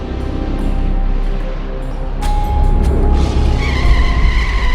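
A car drives hard and skids, the engine rumbling loudly before tires squeal sharply in the latter half, close and intense with no speech.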